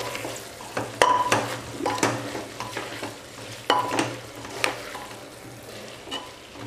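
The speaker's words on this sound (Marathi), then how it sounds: "पुन्हा एकदा आपण हे छान मिक्स करून घेणार आहोत।" A spoon stirs mixed vegetables with freshly grated coconut in a pan, scraping and knocking against the metal in irregular strokes over a soft sizzle, close by with no talking.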